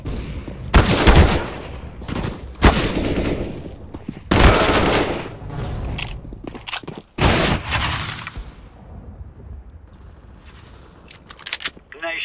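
Several loud bursts of gunfire from CS:GO come in separate volleys with quieter gaps between them, and a few lighter clicks and rattles follow toward the end.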